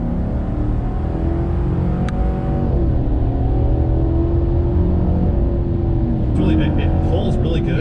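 A 2022 GMC Sierra pickup with the 6.2 engine accelerating from a roll, heard from inside the cab as a loud, steady engine drone climbing in pitch. A brief chime sounds partway through.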